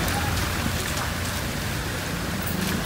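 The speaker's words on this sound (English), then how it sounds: "And it's raining?" Steady rain falling outdoors in Guinea-Bissau, a dense close patter on surfaces filling the whole stretch with a faint voice underneath.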